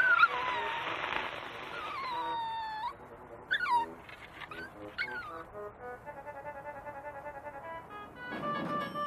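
Cartoon dog in a Gumby episode whimpers and yips in a series of high, wavering cries mixed with squeaky animated sound effects, fairly quiet and without talk.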